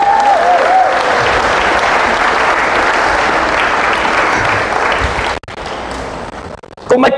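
A worship congregation claps steadily and densely for about five seconds, with a voice briefly audible near the start, then the clapping drops off abruptly and a few scattered claps and noises linger before it swells again at the very end.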